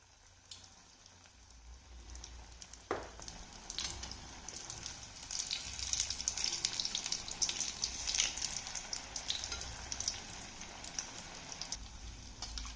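Sweet potato dumplings frying in hot oil over a medium flame give off a steady crackling sizzle that builds slightly and keeps going, with one brief clink near the start.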